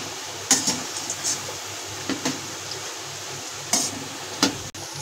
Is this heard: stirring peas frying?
yes